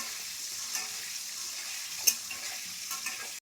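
Duck eggs fry in very hot oil with a steady, bright sizzle that holds near and even for the whole moment, broken by one sharp pop just past the midpoint, with no voices.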